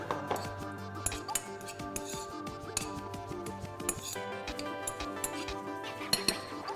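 A utensil clinks and scrapes against a container while quinoa is stirred together with sun-dried tomatoes and olive oil, producing a close, busy series of sharp metallic and glassy ticks.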